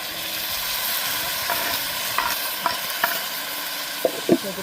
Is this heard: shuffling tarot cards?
no